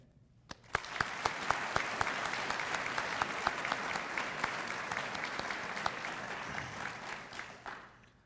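Audience applause at a military change of command ceremony for the 16th Air Force, steady clapping from a large indoor crowd lasting several seconds before tapering off, with no talk over it.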